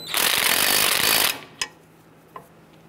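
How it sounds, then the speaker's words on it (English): An impact wrench drives a lug nut down onto the rear brake rotor of a 1995-2001 Ford Explorer in a loud, rapid hammering burst of a little over a second. Two short metallic clicks follow. "Now I'm just going to bottom out that lug nut so that'll help us with the alignment of our brake caliper"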